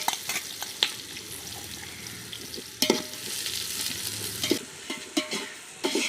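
Onions fry in oil and ghee with cinnamon, cloves and cardamom for chicken biryani, a loud, close sizzle under repeated stirring scrapes and clanks of a spatula against the pot.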